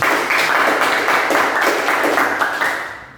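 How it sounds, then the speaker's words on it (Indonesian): Vocational school students in an automotive class clap together, a loud close burst of rhythmic applause lasting about three seconds before fading out. "Tepuk tangan dulu."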